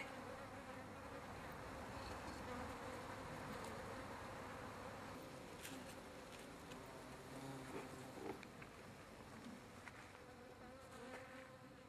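Bees fly around their hive, giving a dense, continuous buzz from many insects that stays quiet and fairly constant, with a few closer passes rising briefly.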